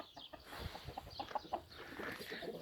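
Chickens cluck softly on a Turkish farm among hens and roosters, a few faint short clucks near the middle over low background noise.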